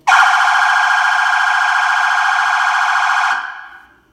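A loud electronic siren from a Soundoff bluePRINT police light bar wails steadily at close range for about three seconds, then cuts off and fades.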